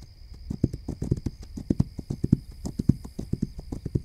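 Steady clip-clop of a horse's hooves in the video game This Land is My Land, a quick, even rhythm of hoofbeats at moderate volume with no talking.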